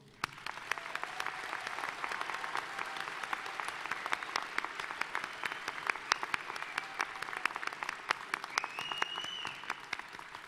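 Sustained applause fills a December commencement ceremony, with many hands clapping steadily and individual sharp claps popping out close by, plus a faint whistle-like tone late.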